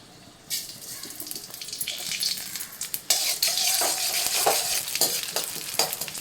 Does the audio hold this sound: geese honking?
no